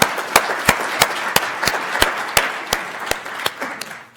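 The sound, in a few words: audience applause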